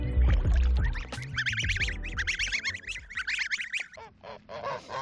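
Geese honk loudly and repeatedly, close by, in a noisy overlapping chorus of harsh calls, with some splashing at the start.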